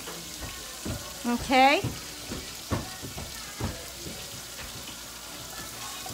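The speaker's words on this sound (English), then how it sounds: "You want the onion and the bacon to fry up together." Onion frying together with bacon in bacon grease, a steady close sizzle with stirring scrapes throughout, plus a brief spoken word and a short whistling squeal partway through.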